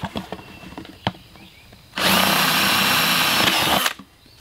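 Power drill boring a hole near the top of a 5-gallon plastic bucket, with a few light knocks and handling sounds, then a loud, steady two-second whir as the bit cuts through before stopping abruptly.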